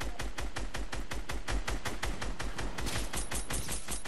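Rapid bursts of gunfire in the video game Fortnite, a steady run of sharp, evenly spaced shots filling the whole stretch, loud and close with no talking over it.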